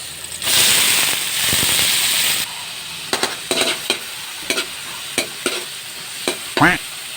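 Garlic and tomato hit a hot pan with a burst of loud sizzling, then fade to a calmer fry broken by sharp stirring clacks and scrapes, no voices.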